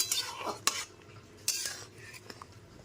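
A spoon clinks and scrapes through papaya curry with bori and shahi garam masala in a pan, several sharp metallic taps and stirring strokes up close, with no talk.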